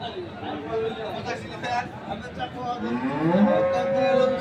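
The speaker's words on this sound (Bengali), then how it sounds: "এখানে যে দুধের গাভী গরুগুলো প্রায় বিক্রয় করা হচ্ছে" Dairy cows moo at a busy livestock market for milk cows, their calls rising over continuous crowd chatter and background voices.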